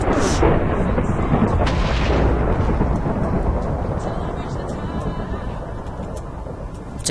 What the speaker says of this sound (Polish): Nawala gdzieś tu piorun blisko